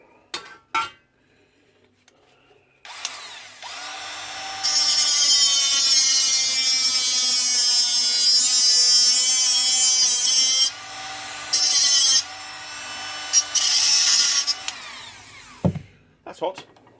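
An angle grinder grinds metal on a Ford Cortina restoration. It runs loud and sustained for roughly ten seconds with a high harsh whine, then cuts in and out in short bursts, with brief talk before it starts.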